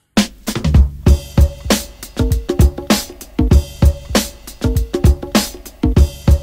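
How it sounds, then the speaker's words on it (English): Drum break from a 1974 track: a loud, punchy funk groove of kick, snare and hi-hat hits in a steady repeating pattern, with bass notes underneath, played alone without any talking. "we start with this little drum break and see if you recognize it"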